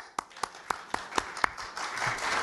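Live festival audience clapping to vote: six spaced, rhythmic claps open the sequence, then give way to a denser scatter of applause toward the end.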